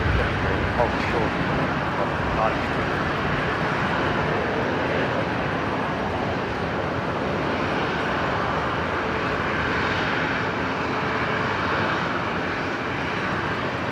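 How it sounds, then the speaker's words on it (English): A Fokker 70 airliner taxis at Brisbane Airport, its engines producing a steady, broad jet roar and rumble throughout, with voices talking over it. "We got a Fokker 70 on the move here."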